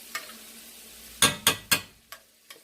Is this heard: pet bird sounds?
no